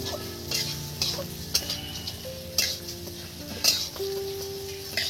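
Moong dal frying in hot oil with spices for khichdi, a soft continuous sizzle with light intermittent stirring clicks from a utensil against the pan, close and fairly quiet, no talk.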